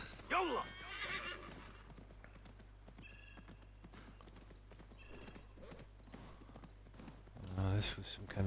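Hooves clip-clop from a horse in the video game Assassin's Creed Mirage, with a whinny at the start and another near the end, set against a low steady game hum.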